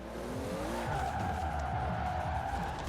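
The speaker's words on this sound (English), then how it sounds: "Well, I could definitely see this car drifting already" Tyres squeal steadily as a Hot Wheels car drifts in Forza Horizon 4, with a sustained high skid tone over a low racing-engine drone, loud and continuous.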